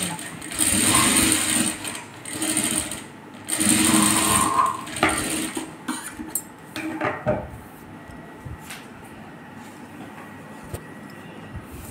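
A sewing machine stitches a blouse, running in two loud mechanical bursts, then stopping for lighter handling clicks and faint rustling up close.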